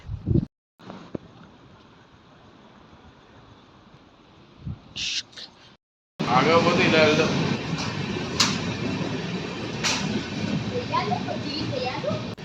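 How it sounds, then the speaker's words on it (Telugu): A train rumbles into a station near Avadi, Chennai, in heavy rain after a brief pause, a broad steady roar with sharp squeals and clanks rising over it, following earlier quieter background and some talking. "ఇక్కడ మా ట్రైన్ అయితే వచ్చేసింది."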